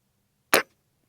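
A single sharp, close shot from an Umarex Komplete nitrogen-powered air rifle cracks once and decays quickly into quiet outdoor surroundings.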